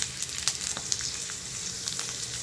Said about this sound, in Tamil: நல்லெண்ணெய் விட்டுட்டு இந்த பிரண்டையை நல்லா வதக்கிக்கிறேன்